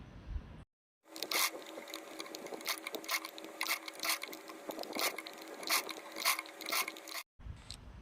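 A sewing machine runs a loose basting stitch along an organza sleeve, a steady mechanical chatter with a quick rhythmic needle beat, close and fairly quiet, with short pauses at the start and end.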